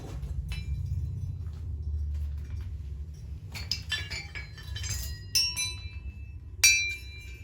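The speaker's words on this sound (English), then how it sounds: "frog wind chime" A frog-shaped wind chime tinkles in scattered bright clinks, with a few louder strikes near the end, over a steady low rumble of background noise.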